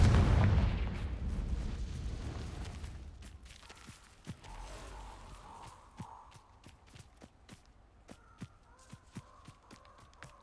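Confringo blasting spell in Hogwarts Legacy: a loud burst early on fades into a series of sharp, repeated cracks and thuds, with a faint magical hum in between.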